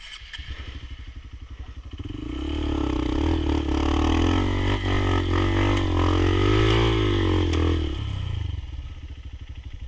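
A trail motorcycle engine starts close by on an off-road ride in Hambalang to Cisadon, ticking over and then swelling into a steady, rough idle with a mechanical clatter before easing off.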